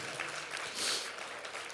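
A church congregation at a thanksgiving service claps together in a dense, steady burst of applause that fills the room, close and continuous for a moment, with voices mixed in.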